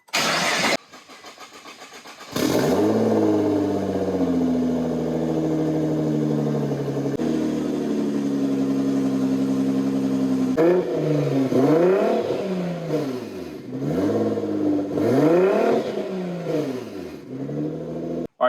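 A 2016 Nissan GT-R being rebuilt after a wreck, with 37,000 miles, cranks and fires up, settles into a steady idle, then is revved several times in rising and falling swells, loud and close.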